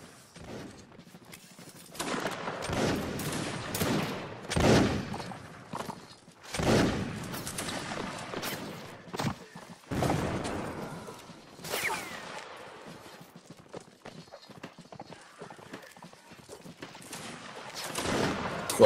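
Musket volleys in the Napoleonic Wars mod of the game Mount & Blade: Warband, scattered bursts of gunfire and ragged fusillades at varying distance over a low battlefield din, no speech.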